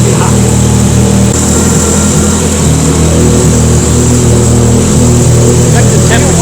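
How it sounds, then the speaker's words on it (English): The big-turbo engine of a Porsche 944 runs loud and steady at close range, a dense continuous roar with little change in pitch, and voices can be heard over it. "Whack the throttle a couple times."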